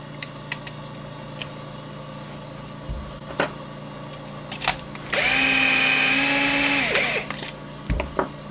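Power trimmer cutting the mouth of a brass cartridge case during case prep, a loud high whirring buzz lasting about two seconds, surrounded by quiet clicks and tool handling.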